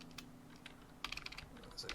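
Quick keystrokes on a computer keyboard as a command is typed into a Minecraft server chat, a few taps early on and then a denser burst of clicky typing near the microphone, with no talking.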